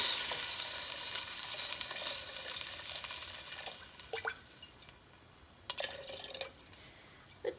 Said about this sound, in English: now we're going to add the bone broth. And we'll add most of this quart.